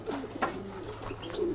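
Pigeons cooing inside a loft on Santorini, soft low repeated coos with brief flutters, close by and moderately quiet, no talking.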